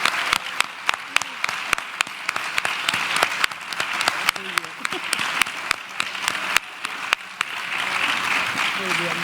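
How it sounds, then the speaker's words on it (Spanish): Warm audience applause at a book fair in Monzón, Aragon, with sharp individual claps standing out over a steady wash of clapping and some voices beneath. "Un aplauso para Olga"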